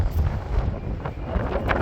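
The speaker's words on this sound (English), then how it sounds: "Oh, it's a bit windy here." Steady wind buffets the microphone outdoors in Edinburgh, a continuous low rumbling gust that stays fairly loud and even for the whole moment with no voice over it.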